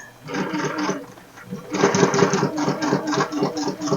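A home sewing machine stitches slowly around a curve in fabric, its rapid mechanical chatter starting and stopping in short runs as the pace eases, close up with no voices.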